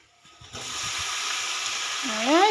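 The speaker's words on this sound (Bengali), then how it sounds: "পেঁয়াজটা হালকা হালকা ভাজা ভাজা গেছে, এবার দাও টমেটোগুলো দিয়ে দাও" Onions and tomatoes frying in a pan during home cooking, a steady bright sizzle that starts abruptly after a short quiet moment and continues evenly, with a brief rising squeal near the end.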